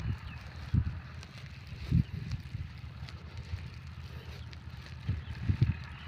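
Gusty wind blows across a sandy river bank on the Jaldhaka river char, rumbling steadily against the microphone with stronger gusts swelling now and then, no voices.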